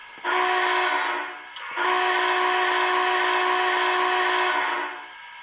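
A model Big Boy steam locomotive's whistle sounds two loud, steady, chime-like blasts, a short one followed by a longer sustained one, close and alone.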